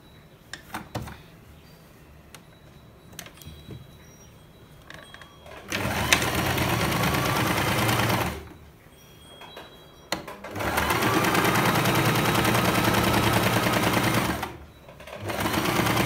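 Sewing machine stitching a pillow cover, running in two loud sustained bursts of steady whirring separated by pauses, with quieter handling clicks and rustles at the start.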